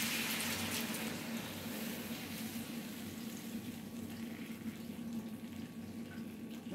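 Cold water seasoned with garlic pours steadily into a pan of chicken breast, a continuous close hiss and gush with faint sizzling underneath, no voices.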